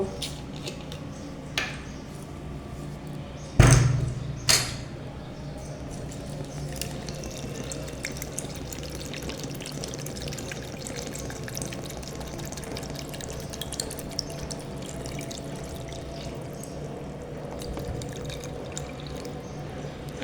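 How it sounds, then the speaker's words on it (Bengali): A litre of water is poured into a raw mango and mint juice mixture, giving a long, even stream of liquid noise with a louder splash near the start. It is close and moderate in level, with no talking. "আমি এখানে পুরো এক লিটার পানিটাই দিয়ে দিলাম"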